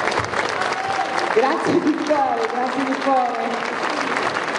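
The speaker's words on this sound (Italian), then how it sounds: "Facciamogli ancora un applauso, se lo merita davvero." Audience applause at a celebration of a bersaglieri fanfare band in Ognano, a steady dense clapping throughout with a voice speaking over it.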